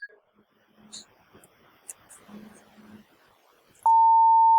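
A long, steady electronic beep from a VVPAT voting machine starts abruptly and holds loud and unbroken after some soft murmured talk and rustling.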